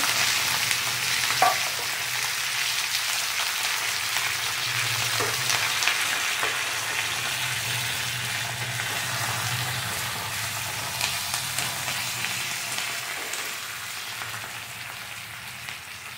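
Cashews, curry leaves and dried chillies frying in hot oil for a tempering, a steady, close sizzle with soft crackles and occasional stirring, no voices.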